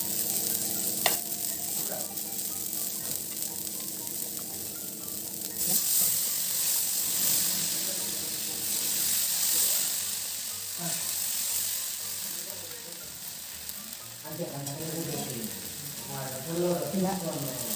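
Rava dosa batter frying in oil on a hot pan, a steady close sizzle with bursts of crackling and scraping as it cooks.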